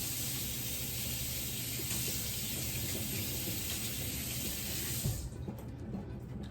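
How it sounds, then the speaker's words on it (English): Hands are rinsed under a running kitchen tap, a steady, close hiss of flowing water that cuts off abruptly near the end, leaving faint dripping and quiet. "So now I'm gonna rinse my hands."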